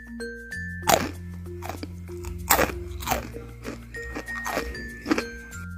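Crispy fried kacang kribo, a spicy, savory peanut snack made without wheat flour, crunched up close: about half a dozen sharp, brittle bites, each followed by crackly chewing.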